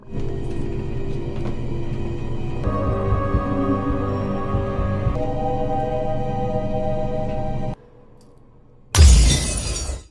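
A pendulum shatters with a loud, sharp burst of breaking glass that rings out after a brief hush, following a long stretch of sustained droning music.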